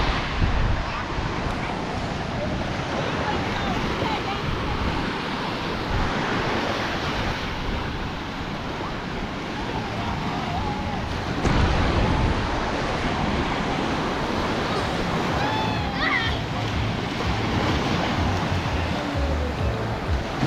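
Ocean surf at Treasure Beach, Jamaica, rolls as a continuous broad wash of breaking waves mixed with gusty wind noise on the microphone, fairly loud and steady throughout.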